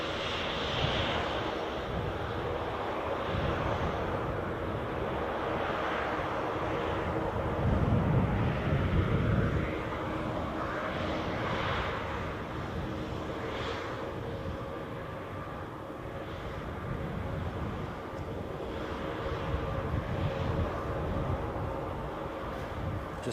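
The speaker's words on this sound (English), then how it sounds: "Enjoy this takeoff." An airliner taking off at Newcastle International Airport, a sustained distant jet engine roar that swells and holds steady throughout, heard from outside with no talking.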